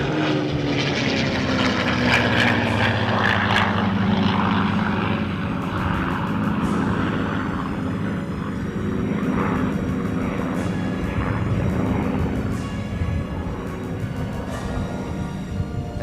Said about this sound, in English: Check this out: the Timmermans P-51 Mustang and the Supermarine Spitfire